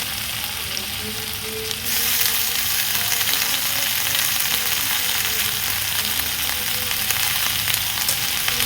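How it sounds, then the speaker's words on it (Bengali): Stem greens hit a hot oiled pan and the sizzle jumps louder, then holds as a dense, steady frying hiss close by for the rest of the clip, with no voices. "এবারে ডাঁটার শাকটা দিয়ে দিচ্ছি এর মধ্যে"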